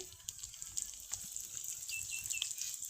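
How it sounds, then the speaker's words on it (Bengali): Chopped onions with garlic, whole cumin and dried chili fry in a pan, giving a steady high, hissing sizzle with scattered small pops and crackles, fairly quiet and close. "পেঁয়াজ ভালো করে ভেজে নিব"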